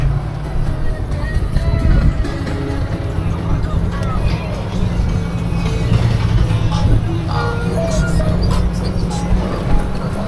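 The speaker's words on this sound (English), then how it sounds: "Let's see what she's got. The old Lexus." An old Lexus drives off-road through a ford, its engine a low, continuous rumble with splashing and rattling, while people talk over it.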